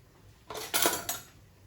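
A metal spoon clinks and scrapes against a pot or dish in a home kitchen during cooking, three quick close clatters over a quiet background.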